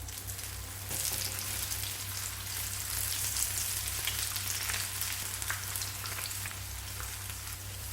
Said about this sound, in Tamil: சலசலப்பெலாம் அடங்குற வரை நல்லா பொரிச்சு எடுத்துக்கணும்.